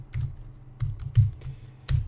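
Computer keyboard keys tapped in short irregular bursts of a few strokes each, close and fairly quiet, with no voices.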